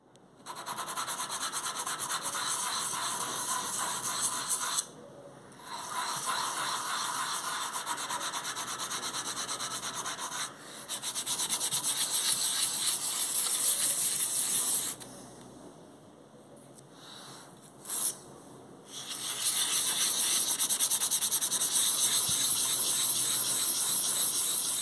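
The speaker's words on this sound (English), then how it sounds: "I stripped the motor yet again, removed the lubrication I had previously applied, and set to with some wet and dry sandpaper" Wet and dry sandpaper rubs on the motor of a Lima GWR model railcar in long, steady scratchy strokes, close up, broken by short pauses.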